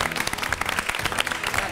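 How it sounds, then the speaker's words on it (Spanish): A studio audience at a televised interview show breaks into dense, steady applause, many hands clapping at once with no pauses. "¡Fuerte el aplauso para Esteban!"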